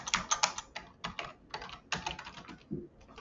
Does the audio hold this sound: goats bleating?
no